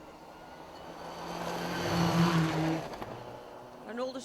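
A Subaru Impreza rally car on Scottish forest stage roads swells in engine roar as it approaches, passes close and fades away over a few seconds.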